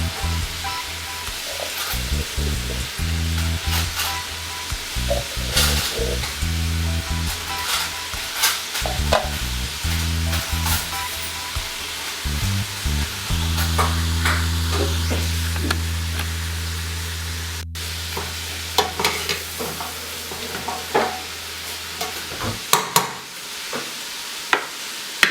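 Bacon frying in a pan, added alongside braising beef shanks, a loud sustained sizzle and crackle with scraping and stirring sounds and a low rumble through much of the stretch.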